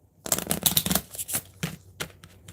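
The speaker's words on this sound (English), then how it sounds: "I'm gonna do one more shuffle." Rapid riffle-shuffling of a deck of tarot or oracle cards at close range, a burst of crisp flicking cascades followed by a few shorter shuffles and taps, with no talking.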